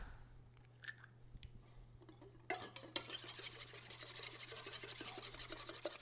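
Two large eggs are beaten in a small bowl, starting with a few clinks and taps before settling into fast, steady, close whisking.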